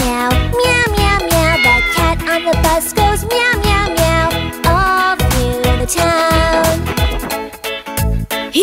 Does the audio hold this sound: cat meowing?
yes